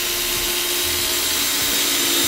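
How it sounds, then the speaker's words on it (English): A power drill bores holes in a cabinet during a camper van build, a loud, steady, close whine with a constant hum that runs unbroken from start to finish. "Next up, drilled the holes."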